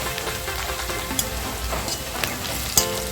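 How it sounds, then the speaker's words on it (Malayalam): Ginger, green chillies, garlic and curry leaves sizzle steadily in hot oil in a pan, a close continuous frying hiss with a few sharp spoon clinks against the pan. "ഇഞ്ചിയും പച്ചമുളകും വെളുത്തുള്ളിയും വേപ്പിലും എല്ലാം കൂടി നമ്മളിപ്പോൾ ഇതിലേക്ക് ഇട്ടത് നന്നായിട്ട് വാടി വരുന്നുണ്ട്"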